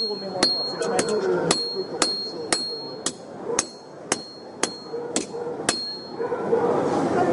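A blacksmith's hammer strikes metal in a steady series of about ten sharp, ringing blows spaced roughly half a second apart, close and loud over a low workshop murmur.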